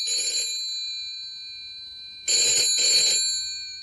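A telephone bell rings at a post office counter in two clear bursts, the first short and fading, then a louder double ring after a pause, with no talk.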